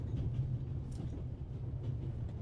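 A moving train in the game The Raven Remastered gives a steady, low, droning rumble with faint rattling on top, continuous and even throughout with no voices.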